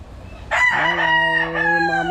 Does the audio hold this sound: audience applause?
no